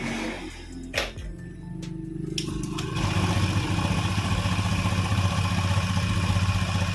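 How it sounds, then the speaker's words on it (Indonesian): An automatic scooter engine with its CVT components removed is started close by, clattering briefly before settling into a smooth, steady idle that runs on alone. "terdengar untuk suara mesin itu juga cukup halus Kang Bro, dalam kondisi seperti ini tanpa kita pasang komponen CVT"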